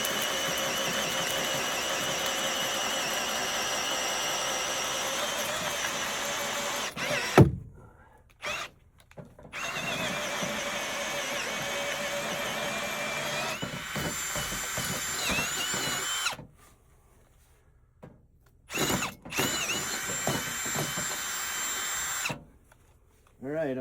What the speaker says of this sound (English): So we're going to drill down